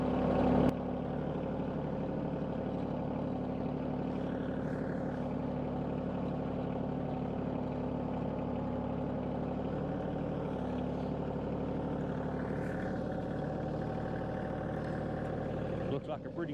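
A tractor engine idles and runs steadily while the tractor backs up with a box blade attached, a continuous close mechanical drone that lasts throughout.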